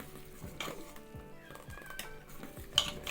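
Melting jaggery is stirred in a pan, with a series of light metallic scrapes and clinks from the spoon against the pan over a faint sizzle, close and quiet.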